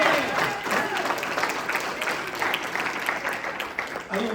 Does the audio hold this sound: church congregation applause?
yes